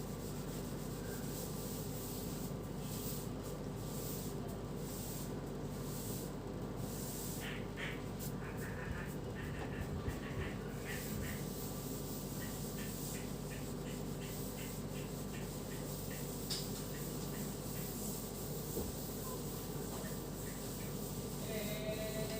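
Chalk rubs across a classroom blackboard, a faint, scratchy scraping that comes in short bursts against a quiet room background.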